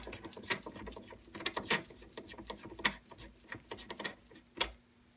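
Faint metallic clicks and scraping ticks as a Hornady bullet feed die from a 300 BLK kit is threaded by hand into a reloading press tool head, irregular and close.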